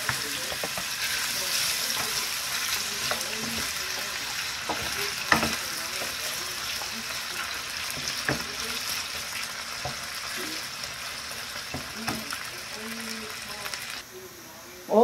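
Potatoes fry in hot oil, a continuous close crackling sizzle broken by occasional clicks of a utensil against the pan, steady throughout before a sudden bump at the end.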